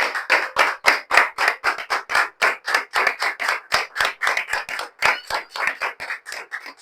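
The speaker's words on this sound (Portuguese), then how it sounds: "Aplauda ao Senhor." A small church congregation claps in a strong, rhythmic beat, about three to four claps per second, close and sharp, continuing steadily throughout without talk.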